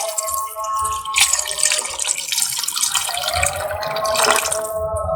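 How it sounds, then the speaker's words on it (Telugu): Water poured into a pot while making farm chicken biryani, a steady splashing, gurgling stream running continuously for several seconds, close and fairly loud with no talk. "నేను చెప్పిన క్వాంటిటీ ప్రకారం వాటర్ యాడ్ చేసుకోండి"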